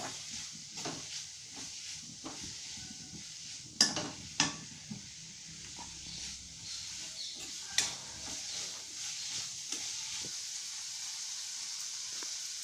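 Half of the raw onions fry in a generous amount of oil in a pan while cooking edik bele saru, giving a steady faint sizzle broken by several sharp clinks of a spoon against the pan.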